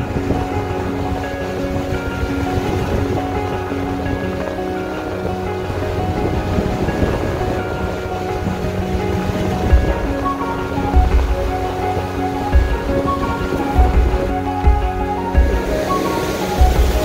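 Ocean surf rolls in steadily at a coastal viewpoint near country homes, a loud continuous wash of breaking waves mixed with wind rumble on the microphone for the whole stretch, with no voices.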